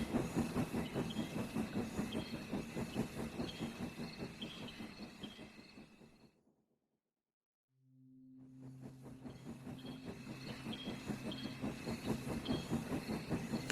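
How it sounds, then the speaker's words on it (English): A steam train runs through the cold night with a rhythmic chuffing and hissing. The sound fades to near silence, and a low tone rises before the steady chugging builds back up. "The train carried on into the cold night."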